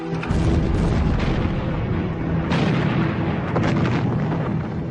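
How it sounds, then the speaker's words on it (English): German artillery bombardment at Verdun in February 1916, heard as dense, continuous booming and rumbling blasts, loud and sustained for the whole stretch, with swells of fresh detonations partway through. "On the 21st of February 1916, the German bombardment began."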